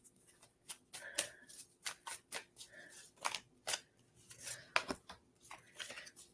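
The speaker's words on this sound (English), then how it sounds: "I'm going to pull you a couple more cards." Tarot cards are drawn and slid from a deck one after another, a quick irregular run of crisp papery snaps and rustles, close and fairly quiet, with no voices.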